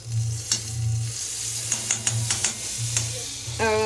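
A little butter sizzles in a pan ahead of frying broccoli, a close, steady hiss broken by a handful of sharp clicks and taps from a utensil, and a brief tonal squeak near the end.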